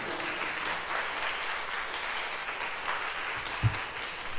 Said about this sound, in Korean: 우리 목사님 나오실 때 박수로 환영하겠습니다.